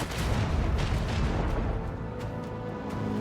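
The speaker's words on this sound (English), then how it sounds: "first we will shoot at you" Ship weapons open fire in a Rogue Trader space battle against Drukhari pirates, a dense, continuous barrage of heavy booms and rumbling blasts with short sharper cracks toward the end.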